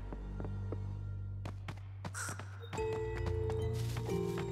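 Crows caw in a boss fight in the video game Luigi's Mansion 3, several sharp, separate calls spaced over a low sustained hum of game music, then a louder layered musical swell.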